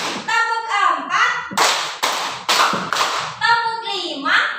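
Sharp hand claps counted out in a primary school class lesson, several evenly spaced loud claps between stretches of a voice speaking close by.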